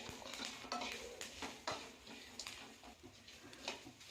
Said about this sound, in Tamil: கொய்யாக்காயும் போட்டு சும்மா கொஞ்ச நேரம் வதக்கணுமா போதும்.